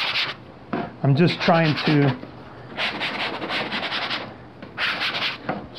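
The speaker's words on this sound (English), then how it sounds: "So the sanding block is picking up some of that product. I'm going to kind of go over it just a little bit more." A sanding block scuffs the surface of an HDPE King StarBoard polyethylene sheet with light pressure, giving a dry rubbing rasp in short passes that comes and goes, partly under someone talking.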